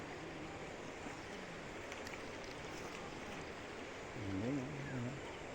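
Strong mountain-fed water current flowing beside a market in Sibalom, Antique, a steady broad rush close by, with a voice briefly over it near the end.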